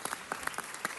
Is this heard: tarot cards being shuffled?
no